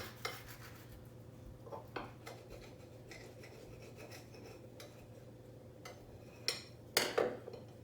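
A knife saws and scrapes through a homemade French-style tacos on a plate or board, quiet rasping strokes with a few louder clinks near the end.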